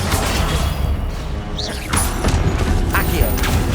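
A Confringo fire spell blasts out in the Hogwarts Legacy video game, a booming burst with a whooshing crackle in the middle of dense, loud game combat noise and shouted spellcasting.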